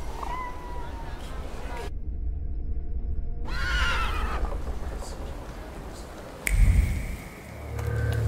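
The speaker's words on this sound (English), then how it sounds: "I meant to take the horse out for a ride" A horse in the video game The Thaumaturge gives a clear whinny partway through, set against steady ambient game noise, with a low rumble near the end.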